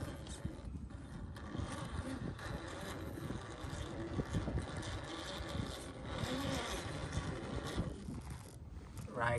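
A 1:7 Rlaarlo MK-07 RC car crawls in low gear with rear wheel drive and open diffs, giving a steady buzzing electric whine with a faint rise near the end, and a person speaks over it at times.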